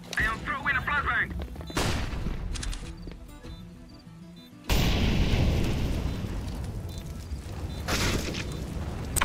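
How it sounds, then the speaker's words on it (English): Gunfire and a flashbang in the video game Sniper Elite 4, with loud booming shots and a sudden blast followed by a sustained roar of explosions and battle noise. "Throw in the smoke. I am throwing a flashbang."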